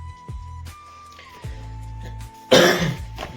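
A single harsh cough bursts out after a few quiet moments of low hum and faint tones, loud and close.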